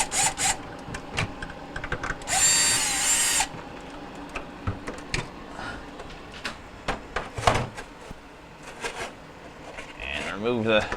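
A power drill with a 1/4 inch bit backs screws out of the ice maker in a Frigidaire refrigerator: one whirring burst of about a second amid scattered clicks and knocks from handling parts.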